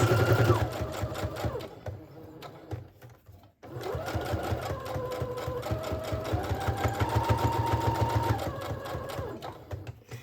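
A sewing machine runs a regular stitch around the edges of a fabric tag, a rapid rhythmic needle chatter close by that pauses briefly midway before resuming with shifting motor pitch.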